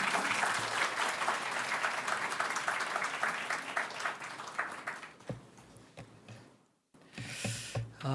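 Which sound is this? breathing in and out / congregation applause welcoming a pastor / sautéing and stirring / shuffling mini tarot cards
congregation applause welcoming a pastor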